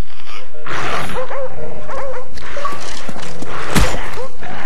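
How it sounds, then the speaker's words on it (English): A video game dog barks, yips and whimpers in quick bursts while attacking, with a sharp thud near the end and loud game effects throughout. "he killed me with a damn dog"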